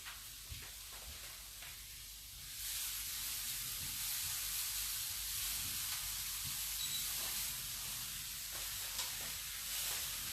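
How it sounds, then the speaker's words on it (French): Chopped courgettes sauté in a very hot frying pan, giving a steady close sizzle and hiss that swells louder partway through and holds, with no talking. "elles sont en train de revenir dans la poêle"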